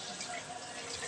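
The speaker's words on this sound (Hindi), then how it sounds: "और बर्तन धो रही" Running tap water at a sink during dishwashing, a steady close splashing flow with faint dripping, continuous through the short moment.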